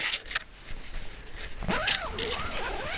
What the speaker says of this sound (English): I'm gonna zip this up for good measure.